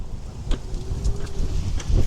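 Cold wind gusting across an open park on a sunny day, a low steady rumble buffeting the microphone with a few faint thumps and rustles.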